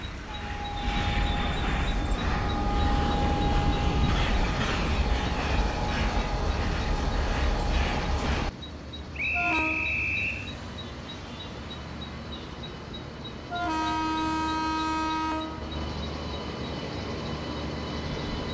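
The Kerala Sampark Kranti Express passenger train rumbles loudly and steadily in heavy traffic, then its clatter cuts off, with a high electronic tone, lower hums and a faint beeping under the engine noise.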